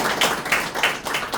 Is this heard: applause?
yes